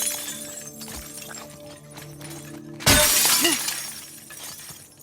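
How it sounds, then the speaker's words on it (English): A window pane shatters in The Last of Us Part II, one sharp, loud crash followed by a spray of tinkling shards that fades over a couple of seconds, heard alone over a quiet ambient hum. "The glass here in The Last of Us 2 sounds great."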